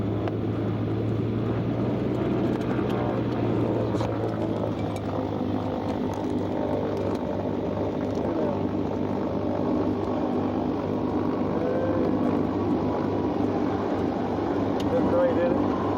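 A small airplane's engine drones steadily and evenly through the cabin throughout, a low constant hum as it climbs away from the runway and turns out, with faint muffled voices underneath.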